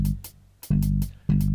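A programmed drum loop in Fruity Loops: heavy booming kick hits about every 0.6 seconds, with crisp hi-hat ticks in between, loud and alone.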